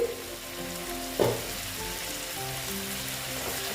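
Banana flower and potato curry cooking in a pan, giving a steady close sizzle and crackle that holds through the whole stretch, with one brief louder stir or clatter partway in; nobody speaks.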